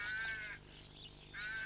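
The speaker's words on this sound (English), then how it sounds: "Hello, that was a rook, wasn't it?" Rook calling in a garden, a few harsh caws at moderate distance, fairly faint against a quiet background.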